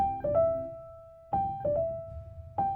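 Three short piano figures, each a quick grace note flicking into a sustained main note, spaced about a second apart with a gentle ring between.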